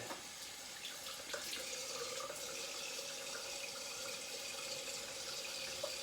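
A bathroom sink tap runs in a steady, moderate stream, water splashing into the basin without pause and no voices over it.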